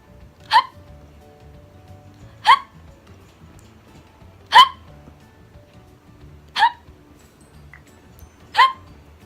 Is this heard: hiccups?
yes